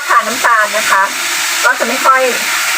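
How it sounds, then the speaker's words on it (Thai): Egg and papaya stir-fried in a pan with a continuous sizzle under repeated scraping strokes of a utensil, fairly loud and close, no speech. "เดี๋ยวขอผัดก่อนนะคะ เออเพื่อนๆจะได้ยินเสียงเลยค่ะ"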